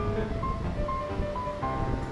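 Rain falling outside, a steady, even hiss of drops that fills the whole moment at moderate level, with a faint tonal hum underneath and no voices.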